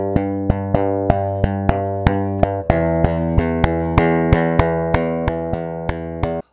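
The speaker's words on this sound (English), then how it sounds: "I started off by adding a big pounding bass going through it like this." Big pounding bass line in a music production, a run of evenly spaced, plucked, tonal bass notes that shifts to a new pitch midway and continues at a steady pace, loud and alone, cutting off cleanly at the end.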